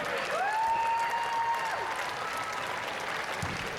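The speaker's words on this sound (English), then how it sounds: "Give Damien Pace a big round of applause." A crowd at a Devils versus Chargers game applauds as players are introduced, with steady, moderate clapping. A whistle-like tone sounds near the start, and background murmur runs beneath.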